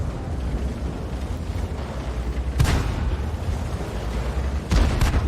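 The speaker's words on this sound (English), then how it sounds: "Arty's working on the case. He's firing rounds in to stun the enemy behind the rock." Artillery firing rounds in a tank battle video game played in a 59 Patton, with two heavy booms over a constant low rumble of battle noise.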